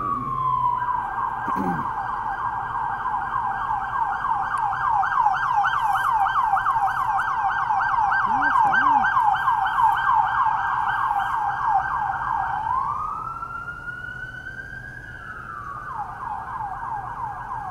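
Wailing police car siren, loud and close, cycling in rapid yelp sweeps before shifting to a slower rising-and-falling wail near the end, with a brief low engine rumble underneath.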